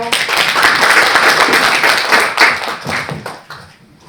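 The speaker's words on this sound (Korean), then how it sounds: "박수로 환영해 주세요." Audience applause welcoming the chair of an education participation committee at a local education forum in Yeonggwang, a dense burst of many hands clapping that thins and fades out near the end.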